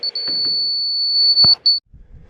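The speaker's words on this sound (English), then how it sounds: "adjust the laser until it starts beeping at us" A laser level receiver gives a high, steady electronic beep for about a second and a half, followed by a short second beep, with faint handling noise beneath.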